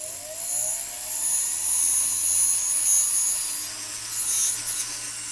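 Soldered metal jewellery piece being sanded by hand, a steady close rubbing hiss that swells and eases in continuous strokes, with no talk over it.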